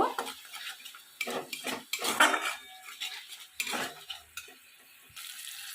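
A spice paste being stirred and fried in a pan with a little water for a vegetarian mung dal and pointed gourd dish; repeated scraping and clinking of a utensil against the pan with a soft sizzle underneath, close and alone.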